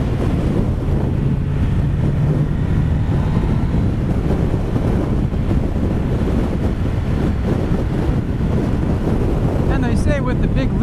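Wind roaring against a sportbike rider on Maui in strong trade winds at about 50 miles an hour, a loud, constant buffeting rush that fills the whole stretch, with a voice briefly audible near the end.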